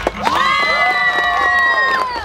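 Loud, sustained cheering from a crowd of spectators and kids at a street workout contest backing a competitor, with shrill held yells and scattered claps filling the whole moment before dropping off at the end.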